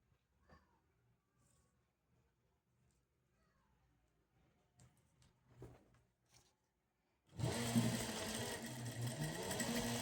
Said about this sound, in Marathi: आपण त्याच्या साईडला अजून एक शिलाई मारून घेतो.